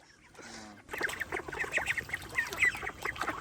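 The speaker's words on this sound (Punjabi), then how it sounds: "ਕਿੰਨੀਆਂ ਬਤਖਾਂ ਤੇ ਕਿੰਨੇ ਬਤਖੇ ਆ ਅਲੱਗ-ਅਲੱਗ ਇਹਨਾਂ ਦੀ ਆਵਾਜ਼ ਸੁਣ ਕੇ ਦੱਸਣੀ ਆ" A flock of white ducks quacks in a busy, overlapping chorus of repeated calls, close and fairly loud, after a short quieter lead-in.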